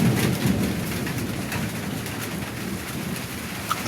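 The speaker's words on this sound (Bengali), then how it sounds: "বাতাস আর বিদ্যুৎ চমকানোটাই আছে" Wind and rain sweep through a dark stormy night, a steady broadband rush with low thunder rumble early on and faint scattered bird calls.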